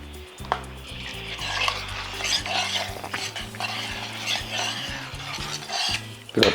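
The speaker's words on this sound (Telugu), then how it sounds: "ఇప్పుడు ఒక్కసారి ఇలా కలుపుకొని" Pumpkin mixed vegetable stew being stirred in a pot, with repeated scraping of a metal spoon against the pot over a soft bubbling sizzle, close and busy, with no talking.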